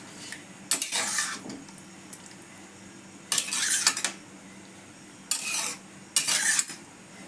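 A spoon scrapes and clatters around a pan as fried potato and paneer get mixed into curry, in four distinct bursts of stirring separated by quiet pauses over a faint background hiss.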